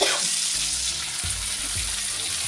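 Kashmiri chili powder, green chili, coriander and cumin powder hit frying pumpkin and potato with a loud, continuous sizzle and hiss, broken by a few soft stirring scrapes of the pan.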